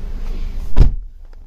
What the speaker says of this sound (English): passenger electric door.